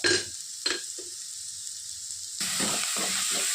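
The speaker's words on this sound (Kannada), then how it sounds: "ಫ್ರೈ ಮಾಡಬೇಕು." Chicken frying for chicken sukka gives a steady hissing sizzle with a few stirring scrapes early on, then the sizzle swells louder and busier from midway as the pan is worked.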